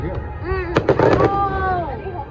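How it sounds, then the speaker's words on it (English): Fireworks bursting at a beach party at night, a quick cluster of loud crackling explosions mid-clip, with people's voices around them. "So the fireworks just ended."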